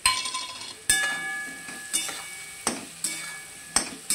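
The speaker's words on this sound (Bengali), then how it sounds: "কাঁচা আমটা দিয়ে এবার কষাবো।" Raw mango pieces fry and get stirred in a pan while cooking, with a soft sizzle under several sharp clinks and scrapes of a spoon against the pan at irregular intervals.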